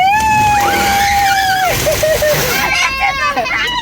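An automatic car wash sprays and splashes water over a car in a loud, steady wash, with excited voices and a child's squeals and exclamations heard throughout.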